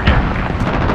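A missile strike in Modern Warfare ground war lands as a single broad, loud blast whose rumble fills the whole short moment.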